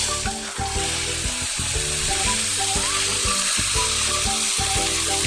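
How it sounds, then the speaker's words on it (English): Fish frying in a very hot wok (kadai) for Kerala-style meen pollichathu: loud, continuous close sizzling with oil crackle and occasional stirring scrapes, no talk. "when you slide the fish in to the wok, the kadai is really hot, and then you can turn it down."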